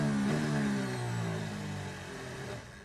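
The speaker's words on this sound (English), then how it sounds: "Let's have a listen on board with Daniel Ricciardo" A Formula 1 engine whines loudly onboard at the Bahrain race, holding a steady high pitch before the note sags and fades toward the end as the car suffers a big failure.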